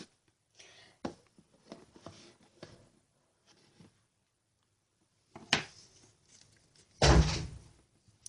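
A door is opened and closed during a home craft project, with scattered soft clicks and handling knocks that end in a sharp thump and then a heavier, louder bang near the end.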